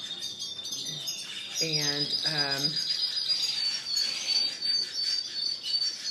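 Several caged male canaries sing in a bird shop, a dense stream of high trills and chirps running throughout while someone talks briefly over them.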